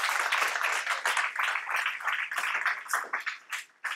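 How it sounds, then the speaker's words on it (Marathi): Audience at a cycling talk session clapping together, a dense, sustained round of applause at moderate distance that thins slightly toward the end. "त्यांना विक्रम म्हणून टाळ्या, आणि ते पुण्याचे आहेत म्हणून आणि जोरदार टाळ्या द्याल ना तुम्ही"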